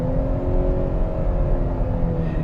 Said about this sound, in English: I do kind of hear like that futuristic, like roaring noise a little bit from the electric motors